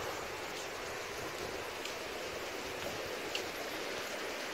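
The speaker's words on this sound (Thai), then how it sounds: "ก็มีเสียงน้ำตกนะครับ" Waterfall beside a room at Namtok Phlio resort in Chanthaburi, with a stream behind the lodging, giving a steady, even rush of falling water that continues without a break and with no voices.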